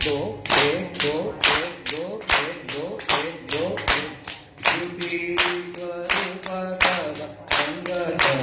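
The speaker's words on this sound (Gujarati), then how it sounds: "પહેલી તાળી જે છે એ ઉપર આપવાની" A group at a Radhastami kirtan class in Bhavnagar claps together in a steady two-beat rhythm. Sharp, evenly spaced claps ring out alongside sung or chanted voices.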